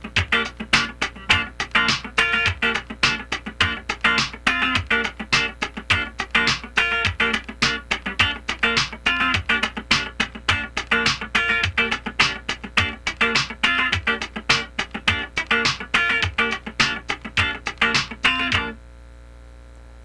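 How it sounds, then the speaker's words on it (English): Up-tempo funk rhythm guitar, muted and scratched with a straight feel, chopping out a dense, steady stream of percussive strokes that runs unbroken until stopping just before the end. "just scratch the guitar all the way through"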